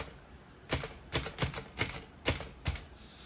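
Keys of a vintage typewriter strike in a quick, uneven run of about eight sharp, loud clacks, heard close and alone in a workshop with a faint steady hum behind.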